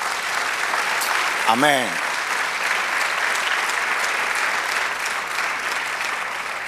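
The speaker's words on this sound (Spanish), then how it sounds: "Denle un aplauso al Señor" Church congregation applauding throughout, a steady wash of dense clapping with a brief spoken word near the start rising above it.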